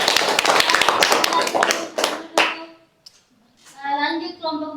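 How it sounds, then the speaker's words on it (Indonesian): Classroom applause for a student group during a micro-teaching session, a short burst of many hands clapping that quickly dies away, followed by a voice speaking. "teman-teman yang lain tolong berikan aplaus kepada kelompok 1"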